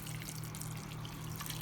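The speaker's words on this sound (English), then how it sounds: "Now I'm gonna add just enough water to cover just the top" Water pours steadily from a pot or tap into a cooking pot of meat and potatoes, a faint continuous trickling rush with no talk.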